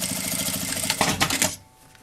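A sewing machine stitches a fabric notebook cover in a fast, even mechanical rattle that runs for about a second and a half, then stops abruptly.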